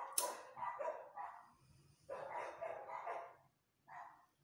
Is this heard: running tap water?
no